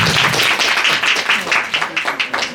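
Audience clapping at a school anniversary celebration for children with special needs, a steady burst of applause from a crowd, fairly close and filling the whole moment with no voices over it.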